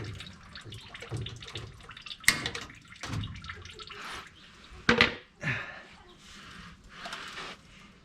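Fluid drains slowly from a car being worked on through a makeshift funnel and hose setup, giving a continuous trickle with scattered drips and a few louder splashes, close by and with no one speaking.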